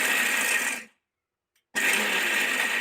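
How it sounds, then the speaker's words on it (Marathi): A kitchen mixer grinder coarsely grinds a bowl of roasted peanuts in two loud, whirring bursts, with a short silent pause between them and no voices. "आता हे वाटीभर शेंगदाणे आहेत ना तोपर्यंत आपण वाटून घेऊया."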